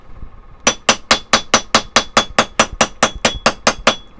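Steady metal hammer blows drive a stamp into a metal whale tail pendant, about fifteen sharp, evenly spaced ringing strikes close by, with no talking.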